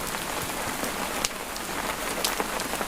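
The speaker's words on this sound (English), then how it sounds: "Outside the window, the rain continues its patient work" Steady rain patters on the stone walls and eaves of a Scottish cottage, a dense, even hiss of drops with a few sharper splats, close and unbroken.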